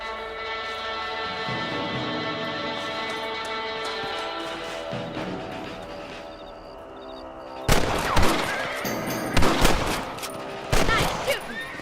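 Rifle gunfire in Red Dead Redemption as rabbits are shot, a run of sharp loud reports in the later part of the clip following a stretch of steady game music and ambience.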